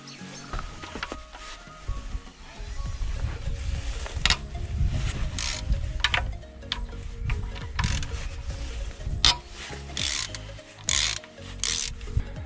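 Ratchet work removing the bolts from the VANOS sprocket on a BMW 325i E36 with an M50B25 engine: repeated close clicking, scraping and rubbing of metal tool against metal, uneven bursts with no talking.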